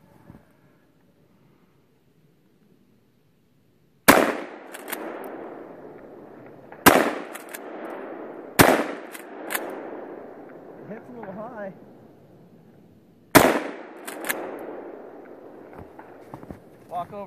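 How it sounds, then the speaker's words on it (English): A Mossberg Shockwave shotgun fires double-aught buckshot outdoors in snow, five sharp, loud blasts spaced irregularly over about ten seconds, each followed by a rolling echo tail. "shoot this proto dummy we have over here, see how well it takes some double-aught buck."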